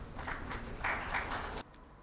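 A conference audience at a 3D printing industry event claps to welcome a speaker, a dense patter of applause heard at some distance that stops abruptly.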